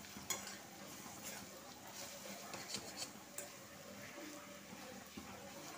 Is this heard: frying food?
yes